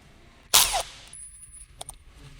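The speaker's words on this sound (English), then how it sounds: "Use the screwdriver gun to loosen it." An electric screwdriver gun loosens the lock ring on a car's upper strut mount with a spherical bearing joint: one sharp, loud burst up close, followed by a faint high whine and a few soft taps.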